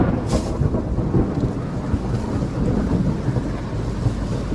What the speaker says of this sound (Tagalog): ay lakas ng ulan eh